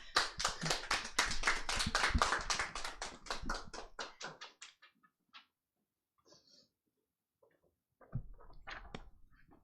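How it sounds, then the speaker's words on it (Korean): A church congregation claps together to welcome a visiting theology professor to the pulpit at a Sunday worship service, a dense burst of many hands that tapers off after a few seconds, followed by near silence and then a voice speaking. "우리 박수로 환영하면 좋겠습니다."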